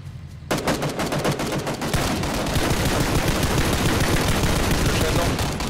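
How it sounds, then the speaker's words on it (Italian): Continuous automatic gunfire in PUBG, a dense sustained rattle of shots after a brief quieter start, loud and steady throughout. "Da sopra ci sparano, occhio."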